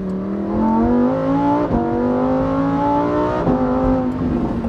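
A Lamborghini Huracan STO's V10 engine pulls away from a parking lot with a loud, rising drone that climbs through gears with brief shift dips, close and continuous, with no talking.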